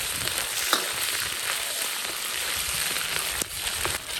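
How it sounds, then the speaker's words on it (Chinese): Ginger sizzling and being stirred in hot rapeseed oil over low heat in a wok, a steady close crackle with scattered spatula scrapes, no talk. "小火慢炒啊"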